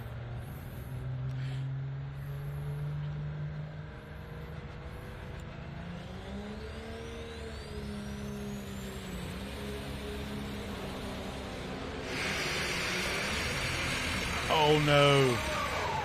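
A pulling tractor at the Bowling Green National Tractor Pulling Championships roars under load, its engine note climbing as it revs. The sound turns abruptly near the end as the drive line breaks, and a commentator's voice is heard over it.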